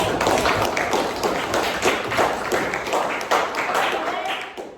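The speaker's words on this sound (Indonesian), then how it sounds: "Good job semuanya, tepuk tangan." A school group claps hands together in a dense, continuous patter of many overlapping claps, fairly close and steady throughout, with some voices mixed in.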